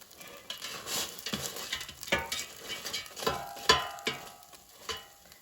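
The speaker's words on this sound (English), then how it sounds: "let's take out the air fryer basket and let's flip the cauliflower tots over so they cook more evenly" Air fryer basket pulled out and frozen cauliflower veggie tots flipped, giving a series of light scraping, rattling and tapping clatters with soft sizzling underneath, close and moderately loud, no voices.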